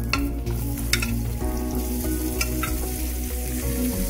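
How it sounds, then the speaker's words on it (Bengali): Paneer pieces fry in hot oil over low to medium heat, a steady dense sizzle with occasional stirring clinks and scrapes, close and continuous with no voices. "পনিরগুলো দিয়ে মোটামুটি 2 মিনিট মতন লো টু মিডিয়াম আঁচে ভাজবো"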